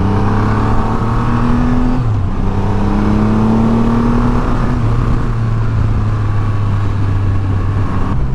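A Triumph Rocket 3R motorcycle ridden in sport mode, its engine holding a steady loud drone with gear changes and shifting pitch, accompanied by constant wind rush throughout.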